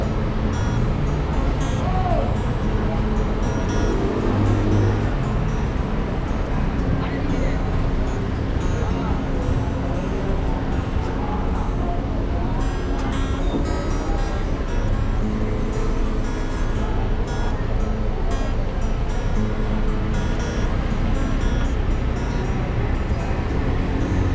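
A Scania K360 coach pulling into a busy bus terminal in Bengkulu, a deep continuous engine rumble with surrounding traffic noise, loud and close, while someone talks over it throughout.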